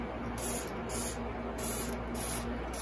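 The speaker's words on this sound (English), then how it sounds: "I'll spray it down through here and maybe that'll get some of it" DeoxIT contact cleaner sprays into a vintage Zenith Transoceanic H500 radio in several short hissing bursts with brief pauses between them, close and steady over a low background hum.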